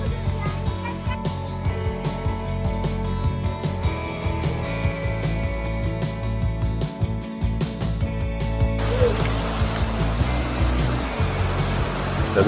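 A waterfall in Costa Rica roars as a steady, broad rush of water, loud and unbroken throughout, with faint scattered sounds on top and no clear speech.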